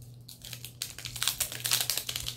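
Crinkly plastic rustling and a quick series of sharp tearing clicks as a zipper bag is pulled open, close and fairly quiet.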